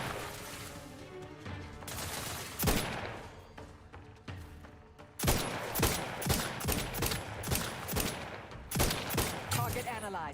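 Rapid bursts of gunfire in The Outer Worlds 2, sharp repeated shots and volleys firing in quick clusters, loud and close, with a voice talking over parts of the action.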